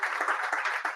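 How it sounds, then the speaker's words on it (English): A brief burst of audience applause at an annual walking-advocacy awards celebration, steady clapping at moderate level lasting about a second. "So big round of applause for MassDOT and Volpe for the work they've been doing."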